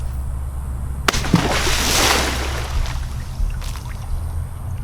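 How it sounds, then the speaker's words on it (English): A fire-resistant safe case, tossed high into the air, lands in the center of a swimming pool with a single sharp splash, followed by a couple of seconds of spraying, churning water over a steady low background hum. "I'm going to take the case, throw it way up in the air into the center of the pool."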